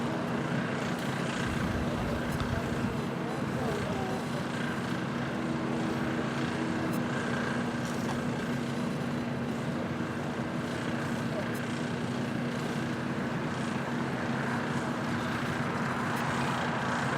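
An airplane taking off from a runway at LAX airport gives a steady, loud, broadband engine roar that holds evenly throughout, with faint voices underneath.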